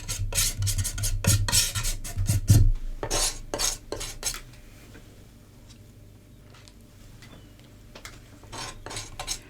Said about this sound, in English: Maybe I'll mix some of the two greens through now.